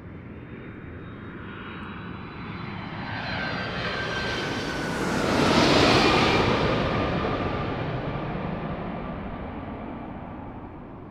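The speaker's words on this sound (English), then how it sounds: "we got a FedEx 767 coming. I hear it." FedEx Boeing 767 jet passing near Raleigh Durham International Airport, a broad roaring rush that swells to a peak midway and then fades as it moves away, heard alone outdoors.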